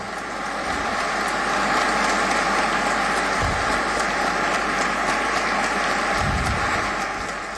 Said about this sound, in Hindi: राष्ट्रपति भवन में पूरे राष्ट्र के सामने तालियों की गड़गड़ाहट से सम्मान पाता है